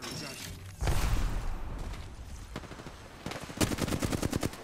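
Gunfire in Apex Legends: a few isolated loud shots, then a rapid automatic burst of evenly spaced cracks near the end, with a player's voice talking over the action.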